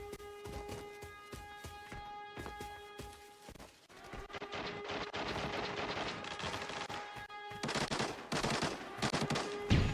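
Gunfight in Arena Breakout: rapid bursts of automatic rifle fire crack back and forth, dense and loud, with short pauses between volleys and heavier shooting toward the end.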